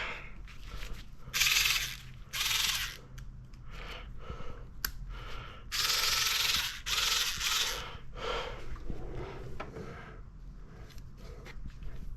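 A 1/4 inch drive ratchet works on the cam cover of an MK7 Golf R, giving several close, loud bursts of rapid clicking separated by short pauses.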